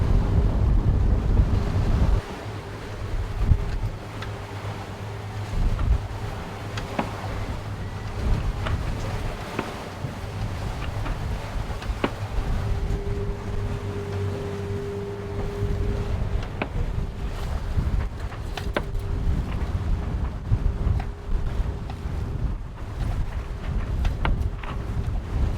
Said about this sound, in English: as the evening comes, the wind picks up again